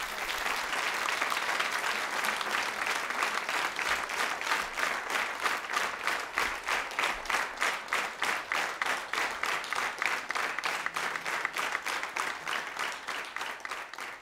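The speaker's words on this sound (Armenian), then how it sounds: "Եկեք ևս մեկ անգամ ծափահարենք այս հրաշալի երաժիշտներին" A concert audience applauds musicians with dense, steady clapping that fills the whole stretch, loud and sustained without a break and with no talk over it.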